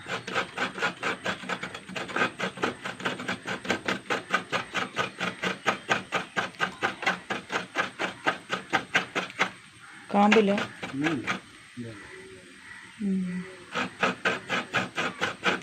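A coconut is scraped on a grater in fast, even rasping strokes, close and rhythmic. The strokes pause briefly while someone speaks, then resume at the same pace.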